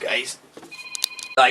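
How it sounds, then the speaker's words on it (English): A phone ringing in a room, a short electronic ring tone with repeated bright pulses between brief bits of a man's speech at start and end. "Oh, that's my phone."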